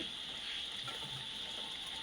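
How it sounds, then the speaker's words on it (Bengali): Rain falls outside a rural home where chicken cooks on a clay stove, heard as a constant, even wash of water noise at low level with no distinct drops or voices. "বাইরে বৃষ্টি পড়তেছে"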